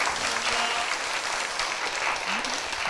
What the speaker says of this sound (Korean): 다양한 이야기를 이렇게 함께 해주신 우리 장관님께 박수 한번 부탁드리겠습니다